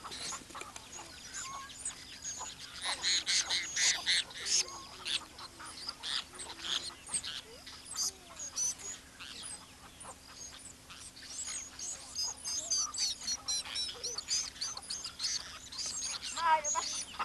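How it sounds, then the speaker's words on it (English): Macaws and other parrots call in a rainforest, with a busy mix of chirps, squawks and whistles and a faint steady hum beneath. "Macaws and other parrots are captured when young."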